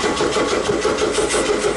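A Chevrolet Opala engine cranking and running close by, a dense continuous mechanical churn with a fast pulsing texture throughout, loud and with no speech over it.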